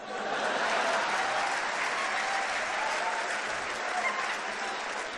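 Audience at a Hindi comedy poetry show applauds loudly and steadily, a dense wash of clapping filling the whole stretch, with crowd murmur underneath.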